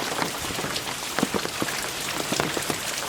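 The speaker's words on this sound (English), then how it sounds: "what the back of the yard looks like when it rains" Rain falls steadily onto a backyard, a dense patter of close drops with scattered louder splats over a continuous hiss, no voices.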